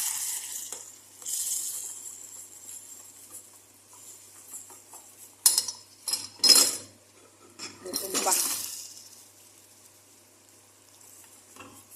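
Utensil scraping and clinking in a metal cooking pot as cream is stirred in for date candy, with bursts of clatter between quieter stretches and a soft sizzle underneath.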